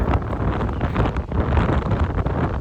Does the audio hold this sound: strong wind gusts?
yes